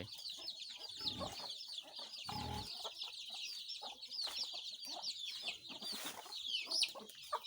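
Several chickens cluck and chatter continuously nearby on a small farm, with higher bird calls mixed in and occasional louder squawks.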